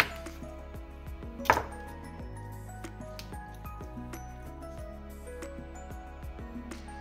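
A knife cuts down through a rockfish collar with one sharp crunching crack, surrounded by faint clinks and soft knocks over a low steady hum.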